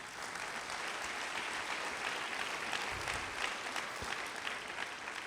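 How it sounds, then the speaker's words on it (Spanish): A church congregation applauds in a steady, dense wash of clapping that holds for several seconds, broad and continuous with no voices standing out. "Puedes darle un aplauso a Él."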